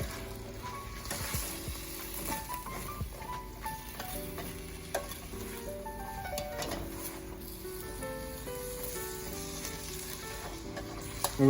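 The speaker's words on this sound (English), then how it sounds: "we're just going to let those veggies saute there for a little bit" Vegetables and spices for a vegetarian chili sautéing in a pan, a soft continuous sizzle with light crackling and occasional stirring, fairly quiet over faint background music.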